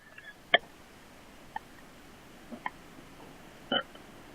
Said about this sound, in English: I'm still trying my massive burp.